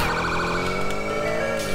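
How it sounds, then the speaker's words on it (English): A video game fire truck siren wails, sweeping up and down continuously, loud and close, with no voices. "Why does that thing have fire truck sirens?"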